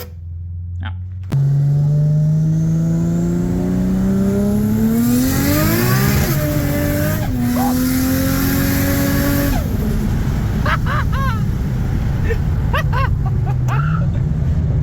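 A Lambodard RB30 engine in an R31 Skyline drift car bursts into life and revs hard, pitch climbing and falling through several loud pulls before settling into a rough, loud idle, with excited voices over it.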